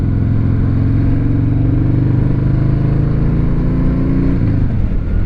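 A Harley-Davidson Sport Glide motorcycle being ridden gives off a steady, loud engine drone with a low throbbing rumble, holding an even pitch that dips slightly near the end, with no talk.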